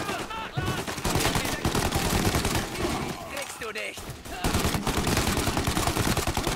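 Dense rapid gunfire from the video game Mafia 1 Remake, with sustained machine-gun bursts and overlapping shots, loud and continuous, with a brief lull midway before the shooting resumes.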